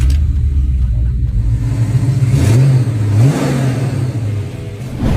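Pontiac GTO muscle car engine revving, a loud deep rumble that rises and dips in pitch through two swelling throttle blips, steady and close throughout.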